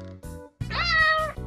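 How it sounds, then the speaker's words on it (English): A cat gives a clear, close meow, a single drawn-out tonal call heard on its own. "A cat makes a meow sound."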